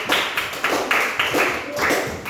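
A small group claps in short bursts, a steady patter of hand claps that rises and dips in waves.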